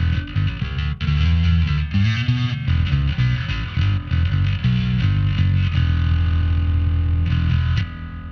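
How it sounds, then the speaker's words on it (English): Bass guitar run through a distortion pedal on a Valeton GP200 multi-effects unit, playing loud, gritty sustained notes and chugging riffs with a brief break near the end. "That's nice from the bass distortion pedal."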